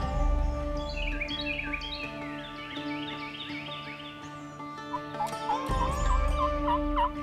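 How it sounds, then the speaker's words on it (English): Wild turkeys gobbling and calling during a western Kentucky spring hunt in the woods, a series of warbling, rising calls repeated across the clip, mid-distance and fairly clear, with no talk. "I've heard a few gobbles in the distance."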